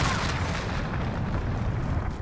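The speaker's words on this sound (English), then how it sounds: "Nice cruise missile." A cruise missile detonates in Call of Duty Modern Warfare, a dense, sustained rumbling blast that fills the moment loudly and evenly with no voices over it.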